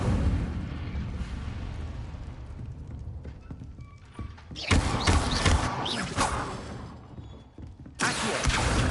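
Incendio fire spell cast in Hogwarts Legacy, a burst of roaring, crackling flame that flares loud partway through and again at the end, over a low rumbling game backdrop.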